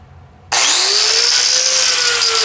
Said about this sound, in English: go ahead and do a little angle grind